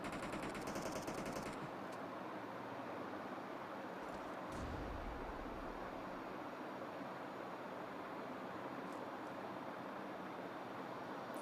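Rapid bursts of gunfire from the Free Fire video game, a dense crackling burst up front then steady rumbling game noise with fainter shots, no talking.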